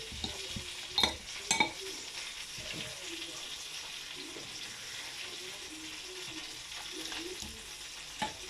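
A duck dish is stirred and mixed in a pot, with scraping and knocking of the utensil against the pot over a soft sizzling bed, plus a few louder clanks and faint talk.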